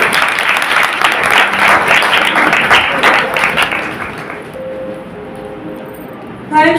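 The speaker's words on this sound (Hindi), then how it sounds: "अपनी तालियां बजाएं" Audience applause at a youth revival church gathering, loud dense clapping for about four seconds that thins and fades, then a short burst at the very end.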